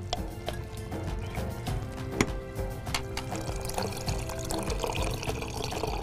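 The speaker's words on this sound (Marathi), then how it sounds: "आता ह्याच्यामध्ये भरपूर पाणी घाल." Water poured into a pot of Maharashtrian bitter gourd sambar gives a steady splashing pour with a few soft knocks of utensils, close and continuous with no talk.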